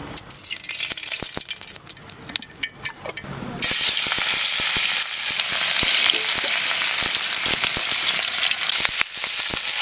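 Snakehead fish frying in mustard oil in a pan gives a steady loud sizzle that swells sharply partway through and then holds, with crackling pops throughout.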